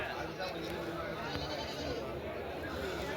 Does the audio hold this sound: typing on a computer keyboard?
no